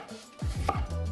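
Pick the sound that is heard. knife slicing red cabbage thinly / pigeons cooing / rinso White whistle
knife slicing red cabbage thinly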